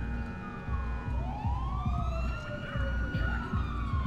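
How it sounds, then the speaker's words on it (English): Police sirens wail in a video game, several overlapping rising and falling tones sweeping across each other, loud and continuous over a low rumbling engine-like bed. "It's the fucking most sirens ever"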